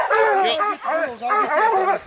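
A black and tan English hunting hound bays at a bear up a tree, giving loud, close, drawn-out wavering howls in three long bursts with short breaks between them.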